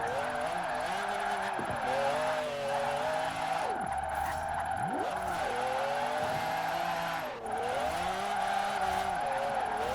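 A supercar in Forza Horizon 4 revs high and steady while drifting, its engine note swooping up and down with brief dips as gears shift, with faint tyre scrubbing under a constant loud drone.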